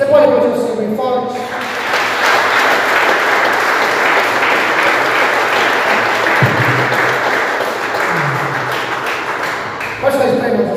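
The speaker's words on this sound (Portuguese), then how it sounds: "Você pode aplaudir o Senhor bem forte?" A church congregation claps loudly and steadily for about eight seconds during a Portuguese-language service, the applause building after a brief spoken lead-in and fading out near the end.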